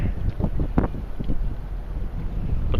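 Wind buffets the microphone in a steady low roar with gusty rumbles on a clear day near water, a hint of water and a boat motor beneath.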